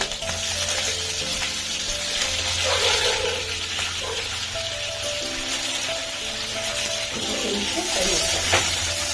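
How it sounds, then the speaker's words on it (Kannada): Chopped onions fry in oil in a pan for vegetable upma, a continuous hissing sizzle with some stirring scrapes while a person talks over it. "ಈರುಳ್ಳಿ ಸ್ವಲ್ಪ ಕೆಂಪು ತನಕ ಫ್ರೈ ಮಾಡ್ಕೊಳ್ಳೋಣ"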